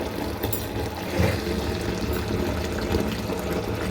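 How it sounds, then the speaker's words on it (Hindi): Water pours steadily into a cooking pot over drumstick pods (sohanjna) for boiling, a continuous close splashing rush with a brief surge partway through. "इसके अंदर हम पानी ऐड कर लेंगे। पानी इतना ऐड करना है कि सुहांजना डिप हो जाए।"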